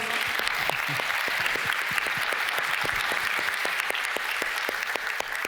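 Steady audience applause at a talk and panel on art and machines, with many hands clapping in a dense, even wash for the whole stretch, moderately loud and without speech.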